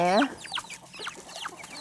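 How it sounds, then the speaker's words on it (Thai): Chickens cluck in quick bursts at evening feeding time by a duckweed pond, close and clear, with one louder squawk at the start. "นี่น้องไก่เรามาแล้ว"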